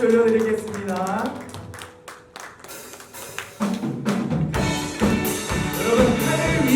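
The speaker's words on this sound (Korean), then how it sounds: "우리 하나님 정말 박수 올려드리겠습니다." A worship congregation claps along in irregular bursts, rising into fuller, denser clapping under a leader's voice and music.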